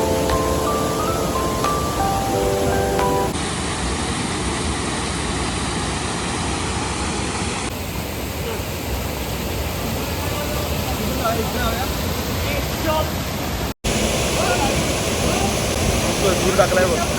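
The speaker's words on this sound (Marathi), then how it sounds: "पूर्ण पाणी वाहतं इकडनं आणि इथे उठं आहे" A monsoon-swollen stream in Kokan rushes past in a loud, steady wash of water that runs unbroken throughout, with a brief tonal sound near the start and a momentary drop near the end.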